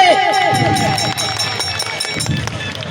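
A crowd at an outdoor commemorative gathering breaks into dense, sustained applause to welcome a guest, rapid clapping filling the space evenly while an amplified voice trails off at the start.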